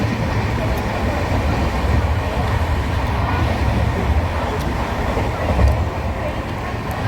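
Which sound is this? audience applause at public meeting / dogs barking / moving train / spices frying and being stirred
moving train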